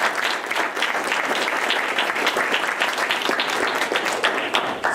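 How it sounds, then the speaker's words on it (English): An audience at a Board of Education meeting applauds the cross-country team, a dense steady round of clapping from many hands lasting throughout, fairly close and unbroken. "it's a team event, so I think that deserves a round of applause"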